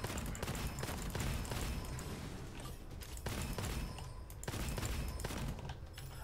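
Rapid bursts of gunfire from the first-person shooter Gunfire Reborn, a dense stream of sharp shots with brief gaps, steady and loud throughout with no talking.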